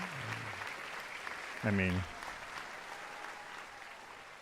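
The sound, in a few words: studio crowd applause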